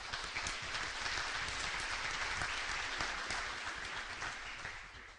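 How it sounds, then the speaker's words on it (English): An audience at a high school sports awards ceremony in Woodland Hills applauds, with dense, steady clapping at moderate distance for the whole stretch, fading slightly at the very end. "Give them a round of applause."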